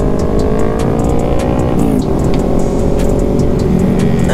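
Loud, continuous engine roar from many motorcycles at a large bike rally with over a thousand riders, steady and close with rising revs and no clear gaps.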